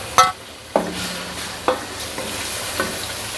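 Four medium tomatoes, roughly chopped, go into a hot pan for vegetable pulao and sizzle, with several sharp stirring scrapes spaced about a second apart over a steady frying hiss.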